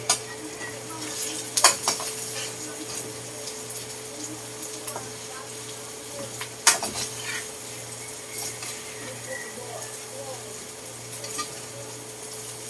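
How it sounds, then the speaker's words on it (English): Onions being stirred rapidly in a frying pan, with a soft sizzle beneath and a couple of sharp utensil knocks against the pan, heard close and fairly quiet. "you notice I am stirring pretty rapidly. What I'm trying to do is blanch the onions"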